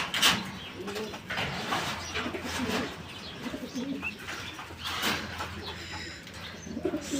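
Sherazi fancy pigeons cooing at a pigeon farm, soft repeated coos and chirps mingling with ambient farm noise and occasional wing flutters, steady and moderately close throughout.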